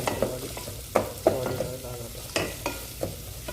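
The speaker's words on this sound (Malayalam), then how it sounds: "അപ്പോൾ അത് ഒന്ന് ഇളക്കി കൊടുക്കുക ഒന്ന് വാടാൻ" Ingredients for a white chickpea kadala curry sizzle in a pan as a spoon stirs them until they wilt, a soft hiss broken by a few scraping strokes, close and alone.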